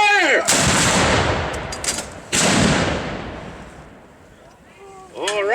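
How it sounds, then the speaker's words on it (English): A historical cannon battery fires a single round at a reenactment field in Jamestown: one huge close blast with a long rolling echo, a second booming report shortly after, then a voice starts speaking as the rumble fades. "we're going to fire off as a battery"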